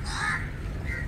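Crows cawing among large birds in Mumbai, a couple of brief harsh calls at moderate distance over a dense, noisy outdoor background.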